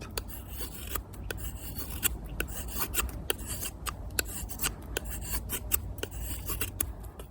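An Opinel No. 8 knife shaves long feathersticks from wood, giving a quiet, steady rasping scrape broken by sharp little clicks and cuts, close up and with no talking.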